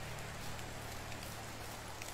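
Rain in the medieval survival game Medieval Dynasty: a faint, even hiss of steady falling rain with a low background hum, continuous and without speech.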